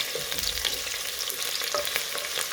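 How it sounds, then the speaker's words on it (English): Onions and garlic simmer in hot oil as a prelude to cooking amaranth greens, a constant close sizzle broken by scraping stirs of a utensil across the pan. "And let them simmer for some time, so as to get those aromas out"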